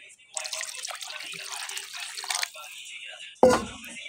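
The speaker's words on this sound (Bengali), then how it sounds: "এখন আমি এগুলোর মধ্যে জল দিয়ে নিব।" Water poured into a pan of braised potato and eel curry in a village kitchen, a broad splashing pour lasting a couple of seconds, then a quieter spell and a sudden louder splash near the end.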